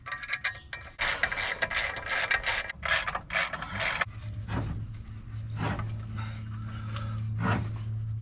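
A ratchet clicks in quick, uneven bursts while tightening bolts on the clutch of a Chevy Vega, followed by quieter metallic turns over a low steady hum, with no one talking.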